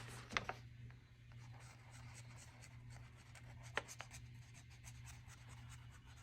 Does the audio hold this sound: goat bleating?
no